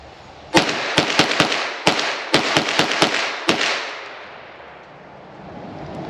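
Beretta PMX-S pistol fired without a brace, nine sharp loud shots in an uneven quick string outdoors, each cracking and echoing, then fading to quiet.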